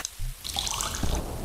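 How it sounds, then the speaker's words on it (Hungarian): Water being scooped into a cup, a short liquid slosh and trickle heard close up with no talk over it. "Egy kis vizet meríts már abba a kupába."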